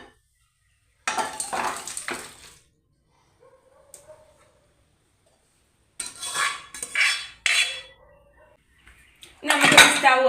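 Vegetable kurma being tipped and scraped from one kadai into another, bursts of metal clattering and spoon scraping separated by near silence, close and fairly loud, with a faint voice in between.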